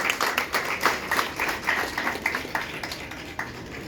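Audience applause at an International Women's Day celebration: a dense, steady patter of many hands clapping, continuing through the whole stretch without fading.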